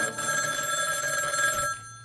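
A telephone bell rings steadily and loudly for almost two seconds, then stops, with no talk over it, the phone waking a sleeper in an old-time radio drama.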